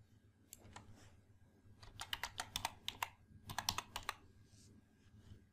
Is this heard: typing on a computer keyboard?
yes